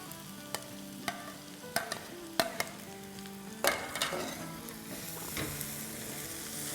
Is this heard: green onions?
yes